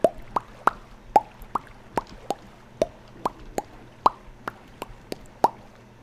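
Repeated sharp block-hitting taps on stone in Minecraft, about a dozen crisp, evenly spaced knocks at a steady rhythm over a low background hum, with no talking.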